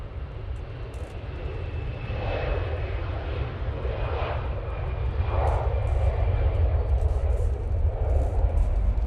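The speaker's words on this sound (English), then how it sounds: "EasyJet taking off" An EasyJet airliner taking off at Manchester Airport, its engines building into a sustained rumbling roar that grows louder over the seconds, with pulsing swells and no talking.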